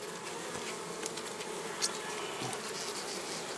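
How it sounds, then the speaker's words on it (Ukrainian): Honeybees being shaken out of a frameless log hive fill the air with a dense, steady buzzing swarm close by, punctuated by a few faint knocks. "Залишається сюди струсити бджолу із язиків тротових."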